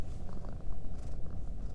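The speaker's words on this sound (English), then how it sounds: "You kneel down and gently stroke their tummy as they continue to purr." Close, continuous purring from a contented cat, a soft low rumble that holds steady for the whole moment with nothing else over it.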